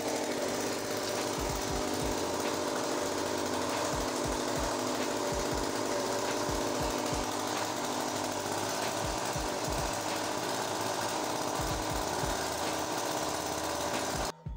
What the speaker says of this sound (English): Powering up the generator, I tested the system and the result was just as expected.